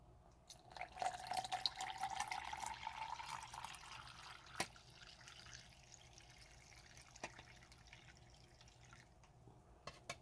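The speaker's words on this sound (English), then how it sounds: "We'll add our water." Water is poured into an MRE ration drink-mix cup, a soft liquid trickle that rises in pitch as the cup fills over several seconds, then fades to a quiet drip with a few faint clicks.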